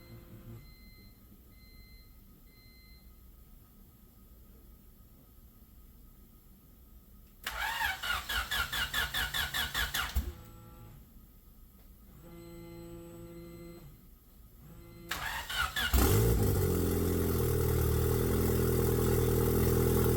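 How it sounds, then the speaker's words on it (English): Honda D-Series engine in an EK sedan cranking and catching, with a whirring starter burst, a settling idle, then a second crank and a louder steady running drone, close and without talk. "I guess I should show the car running before we conclude this video."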